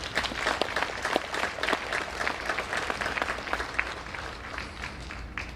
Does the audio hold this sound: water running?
no